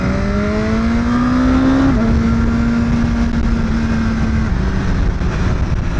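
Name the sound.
BMW S 1000 R motorcycle exhaust while riding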